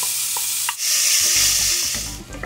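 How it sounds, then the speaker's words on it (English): Diced bacon browning in a pan for German beer cheese soup, a loud close hissing sizzle with a few soft stirring knocks. "We're gonna get it in our pan"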